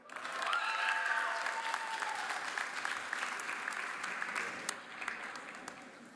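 A large crowd applauds graduates at Arrupe College's commencement ceremony, a sustained wash of clapping that swells quickly, holds steady and slowly fades, heard from a distance in a big hall.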